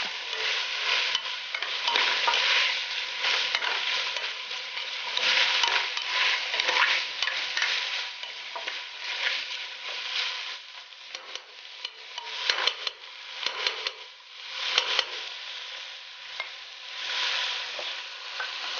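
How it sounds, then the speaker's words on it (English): Ham and sausage frying over medium heat in a pot, crackling with a steady bright sizzle, while a utensil repeatedly scrapes and stirs through the meat with occasional clinks against the pot. "I have my heat on medium, so I do not burn my ham and sausage."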